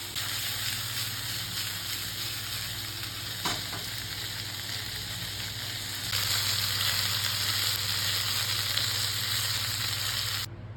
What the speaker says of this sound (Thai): เราไฟหนักลยค่ะผัดเนอันนี้ผัดให้หมูสุกเลย